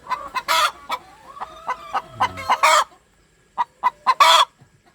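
Laying hens in a coop give repeated clucks and short squawks in close bursts, loud and clear, with quiet pauses between calls and no speech.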